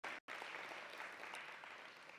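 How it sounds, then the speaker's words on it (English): Dense, steady applause from a workshop audience on nonprofit growth, close and continuous after a brief cut near the start, with no talking over it. "One more round of applause for them, please."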